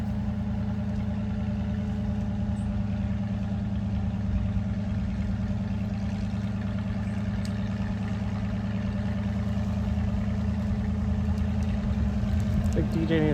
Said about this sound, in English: Here comes John the tractor man.